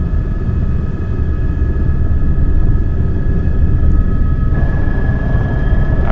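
A helicopter engine hums steadily with a loud, constant low rumble and a faint whine during a ride over Rotonda, heard from inside the cabin with no talk.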